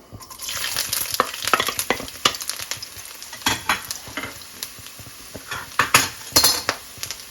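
Ginger fries in hot oil for bitter gourd pickle, sizzling close and loud while a metal spoon scrapes and clinks against the pan in repeated stirring bursts; no speech.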